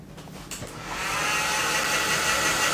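A hair dryer blows with a steady, loud rushing whoosh that builds up within the first second and then holds constant.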